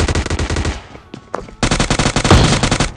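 Rapid automatic gunfire in PUBG, dense bursts of loud cracks that pause briefly and then resume in a heavy sustained volley.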